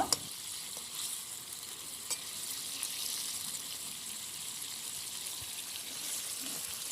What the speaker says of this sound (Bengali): মাছ সহ মশলা একটু নেড়ে চেড়ে দিব।